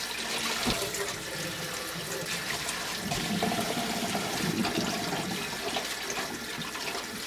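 Chicory is rinsed under a running kitchen tap, with a steady rush of water splashing over the leaves and occasional knocks against the sink throughout.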